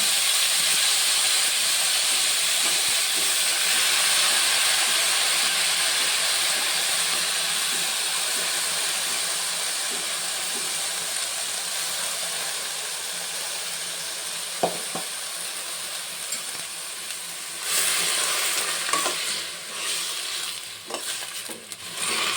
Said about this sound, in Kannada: ಇವಾಗ ನಾವು ಸಣ್ಣಕ್ಕೆ ಹೆಚ್ಚಿಟ್ಕೊಂಡಿರೋಂಥ ಮೂಲಂಗಿ ಸೊಪ್ಪನ್ನು ಹಾಕೊಳ್ಳೋಣ.